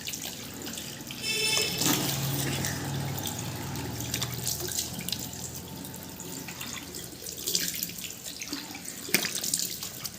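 A tap runs into a sink while someone washes their face, a steady close splash with occasional drips and hand splashes, rising and easing, with no voices.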